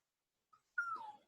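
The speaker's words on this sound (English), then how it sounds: "my dog is whining" A dog whining indoors, one faint short squeak followed by a longer falling whimper, quiet and isolated against near silence.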